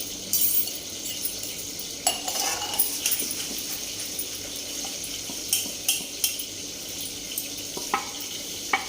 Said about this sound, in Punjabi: ਇੱਧਰ ਬਰਤਨ ਪਏ ਆ ਥੋੜੇ ਜਿਹੇ ਇਹ ਸਾਫ਼ ਕਰਨਾ